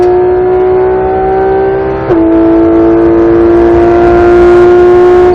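Porsche GT3 RS at full throttle on a race track, a loud, steady engine drone rising in pitch with a brief dip at a gear shift before climbing again, close and continuous.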